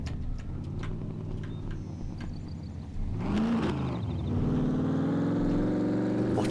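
A car in the video game SCUM hums at a low idle, then its engine rises in pitch and grows louder as it pulls away and keeps driving at a steady drone.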